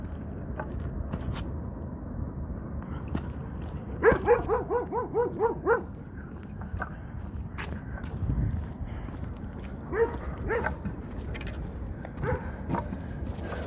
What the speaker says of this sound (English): Wow, this dog's not coming on the road at all.